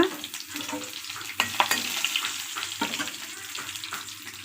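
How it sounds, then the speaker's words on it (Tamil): Fennel seeds, bay leaves and curry leaves sizzle in hot oil for a mutton curry, a close crackling fry with a few sharp pops and stirring scrapes, steady and unaccompanied by talk. "எண்ணெய் காஞ்சதும் சோம்பு நல்லா பொறிஞ்சி கலர் மாறினா தான் அது டேஸ்ட் சூப்பராக இருக்கும் இப்போ பிரிஞ்சி இலை ரெண்டு சேர்த்துக்கும் கருவேப்பிலை"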